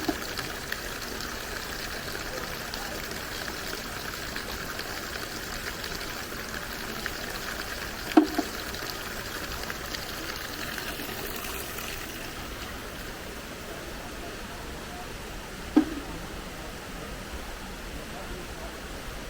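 Steady broadband rush of a small waterfall in Bali, constant and fairly close, with a couple of brief knocks standing out; a voice speaks faintly at times.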